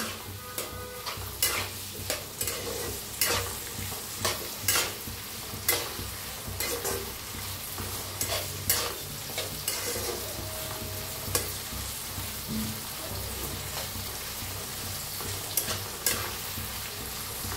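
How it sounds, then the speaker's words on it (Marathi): Peanuts and peas dry-roasting in a kadhai for crispy poha, stirred steadily with a spatula, giving repeated scraping clicks and rattles over a low sizzle, close and fairly loud throughout with no talking. "मटरला भाजायला लय उशीर लागत नाही, तर छान असं भाजून घेऊया।"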